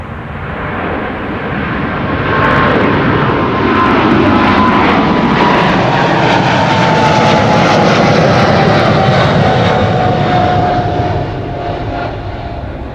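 A KLM airliner takes off from a runway at Schiphol airport, a loud jet engine roar that swells and holds for several seconds and then slowly fades, heard alone without talking.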